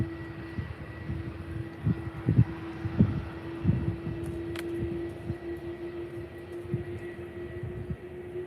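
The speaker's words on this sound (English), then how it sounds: "the Aer Lingus A330 getting ready to take off" An Aer Lingus A330 airliner sits at Faro Airport preparing for takeoff, its engines giving a steady distant hum with a faint tonal whine and scattered low thumps.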